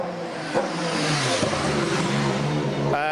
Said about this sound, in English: he's coming in now. All right, you can follow Sebastian Vettel in